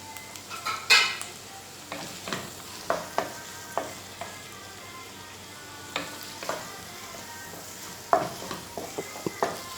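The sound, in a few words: curry leaves sizzling in pan with frying onions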